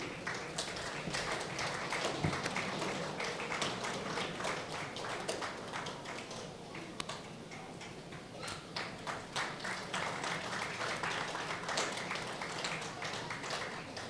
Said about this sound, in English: Big round of applause to our esteemed awardee.